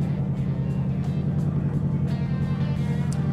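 A Ford Mustang Dark Horse engine runs at a steady, rumbling idle after a push-button start, close by and continuous, with faint periodic ticks above it.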